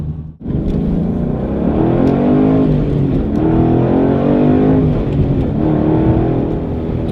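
A 2012–2013 Ford Mustang Boss 302 running on its red track key, the engine droning loud and close as it pulls under steady throttle, pitch rising and falling in long sweeps after a brief dip at the start.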